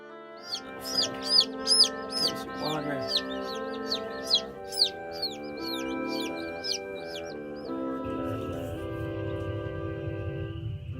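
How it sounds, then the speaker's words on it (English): Homestead chickens clucking in a rapid, loud run of bursts close by, then fading out as a low mechanical hum takes over near the end. "all these birds are waiting for us"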